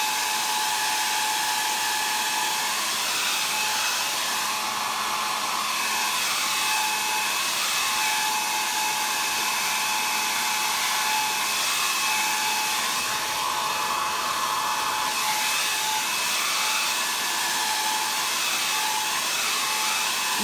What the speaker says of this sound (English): Let me hit that with a blow dryer again.